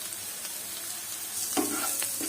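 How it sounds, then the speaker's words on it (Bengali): Onions frying in a pan with green chillies as spices are poured in and stirred, a steady close sizzle with a few louder scraping stirs near the end. "পেঁয়াজ ভাজা প্রায় হয়ে গেছে। এবার আমি সব মশলাগুলো এর মধ্যে ঢেলে দেব।"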